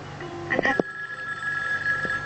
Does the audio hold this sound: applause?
no